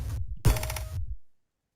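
Mechanical pinball sound effects from a TRS-80 pinball video game: a short clacking, creaking mechanical burst with a sharp thump at its start, close and fairly loud, then abrupt silence.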